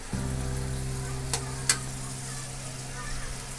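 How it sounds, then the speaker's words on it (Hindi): French beans frying in spices with minced meat in a pan, a soft steady sizzle with two sharp stirring clicks near the middle and a low steady hum underneath. "फलियों को अब हम मसाले में अच्छी तरह भूनेंगे"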